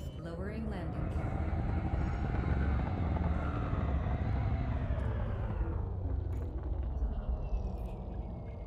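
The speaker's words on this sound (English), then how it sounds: "Gear down. Lowering landing gear." Video game aircraft lowering its landing gear, a deep, loud rumbling engine drone with a rising whine and mechanical clunks, tapering toward the end.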